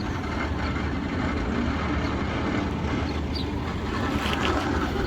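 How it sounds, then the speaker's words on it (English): A ferry arriving on the water near the Gröna Lund amusement park, heard as a steady, broad low engine rumble and water wash that holds evenly throughout, with no voices. "And new ferry arrives."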